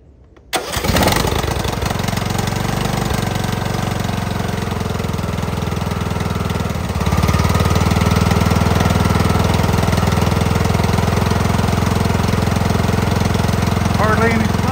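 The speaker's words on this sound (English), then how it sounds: "So now I'm going to start her up." A small gas engine, its tank still holding old fuel, cranks and catches after a sharp start, then settles into a steady, loud idle that rises slightly in level partway through, running continuously up close.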